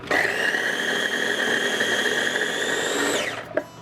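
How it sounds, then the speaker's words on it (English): A noisy mini food chopper chops brown sugar and onion in one continuous whirring burst of about three seconds, loud and close, then winds down abruptly with a short clunk at the end. "So I got my mini food chopper out here."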